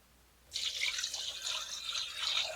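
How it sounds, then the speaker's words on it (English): Water poured into a coffee maker reservoir, starting abruptly after a moment of quiet and continuing as a steady, close splashing trickle. "Pour 20 ounces of water in here."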